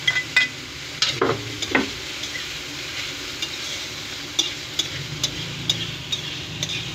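Cooked sikadsikad shells being stirred in a frying pan, with scraping and clattering strokes at an irregular rhythm over a soft, steady sizzle.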